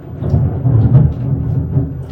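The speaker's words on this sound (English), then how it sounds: "Did you hear the thunder?" Low, rolling thunder rumbles steadily through a storm for about two seconds, swelling and easing without pause, with no voices over it.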